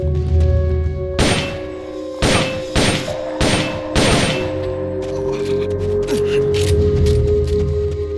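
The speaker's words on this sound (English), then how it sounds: "Gunfire!" A burst of loud, booming gunshots in the video game Metal Gear Solid: Peace Walker, five or six heavy reports in quick succession, followed by a ringing tail and softer distant shots over a steady background hum.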